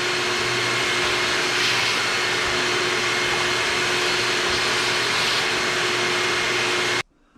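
A Shark robot vacuum cleaner runs with a steady, loud whirring drone and a constant motor hum, close by and alone, cutting off abruptly near the end.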